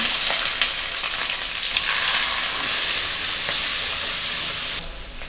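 Onion and garlic sizzling in hot sesame oil with lentils and asafoetida, a steady, loud broadband frying hiss lasting throughout and easing slightly near the end.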